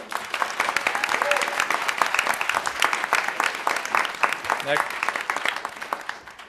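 Audience applause at an awards event honoring community change-makers, a sustained, loud wash of many hands clapping with a few voices mixed in, holding steady before tapering near the end.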